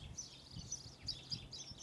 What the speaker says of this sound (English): Hi, birds.